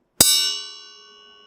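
A single maracatu iron bell (ferro) struck once, giving a bright metallic clang with a long ringing, slowly fading decay, close and alone.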